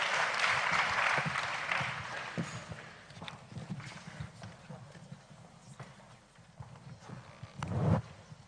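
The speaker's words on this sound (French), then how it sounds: "Je pense qu'on peut applaudir ce formidable chiffre." Applause from a conference audience at a world climate summit for regional governments, a dense burst of clapping that swells loudly at the start, thins into a steady patter, then rises again briefly near the end.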